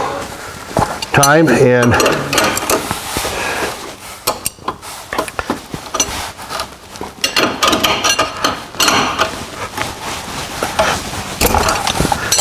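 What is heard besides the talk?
tightening a lock nut on UTV plow mount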